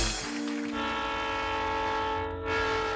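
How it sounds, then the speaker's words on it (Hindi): A train passes close by with a loud, steady rumble and a sustained horn sounding throughout, set in a comedy sketch; no voices are heard. "अरे बेटी, वो ट्रेन की आवाज थी।"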